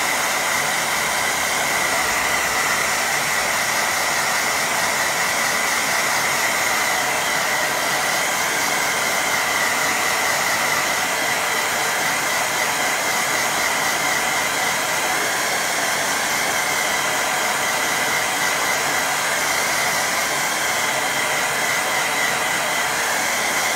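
A hair dryer blows steadily over a wet watercolour painting, a loud continuous airy whoosh with a constant motor hum, close and uninterrupted, with no talking.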